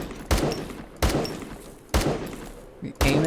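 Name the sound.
enemy ship shooting back, from the video game Starsector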